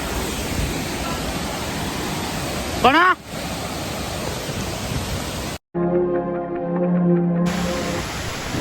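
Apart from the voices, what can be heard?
waterfall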